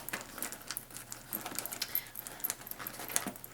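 Keys jangle inside a small Louis Vuitton pochette clipped into a Speedy bag, a steady light metallic rustle and clinking close up with no talking.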